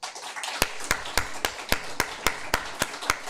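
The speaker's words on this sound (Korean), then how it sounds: "힘찬 박수로 격려해 주기 바랍니다" A congregation at a Sunday church service claps in a steady, evenly spaced rhythm, with sharp, close claps landing about three or four times per second throughout.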